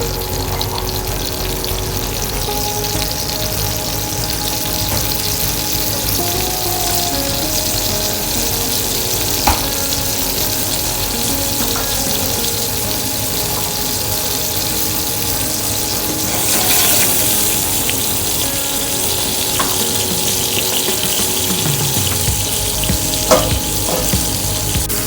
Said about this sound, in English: Let the salmon fry for a little bit.